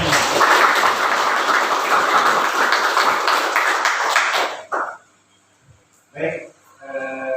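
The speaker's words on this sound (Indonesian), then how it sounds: "Tepuk tangan bagi semua." At an Indonesian vocational school session, an audience claps steadily and densely for several seconds, then it stops abruptly and a few short spoken words follow.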